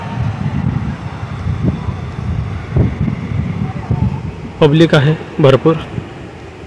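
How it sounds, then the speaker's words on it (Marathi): A steady, loud roar of rushing water from a heavily flowing waterfall fills the scene throughout, with a person speaking briefly over it toward the end. "पोचलो आम्ही एकदम धबधब्याच्या जवळ आणि प्रचंड फ्लो आहे पाण्याला"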